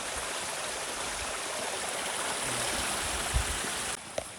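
A mountain stream in the Carpathians rushes in a steady, full broadband wash of flowing water, with a faint knock near the end.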